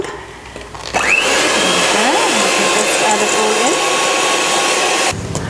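Electric hand mixer beating rose petal cupcake batter, a loud steady whirring drone that starts abruptly, runs for about four seconds and then cuts off.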